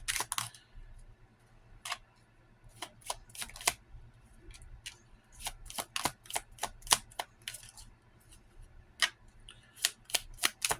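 Tarot cards shuffled by hand in a quiet room, a long run of crisp riffling snaps and flicks in irregular bursts, close and clear with no talking.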